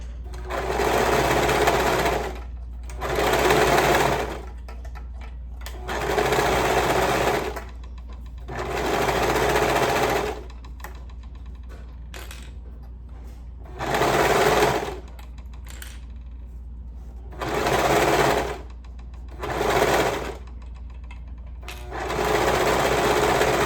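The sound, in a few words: sewing machine stitching band onto a sleeve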